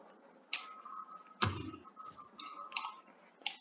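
Irregular computer keyboard clicks, a few sharp keystrokes with one heavier thump, over a faint steady electronic hum.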